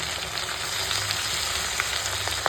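Ginger-garlic paste, chopped tomato and spices frying in a pan, an even close sizzle and crackle running throughout, with a few light utensil taps near the end.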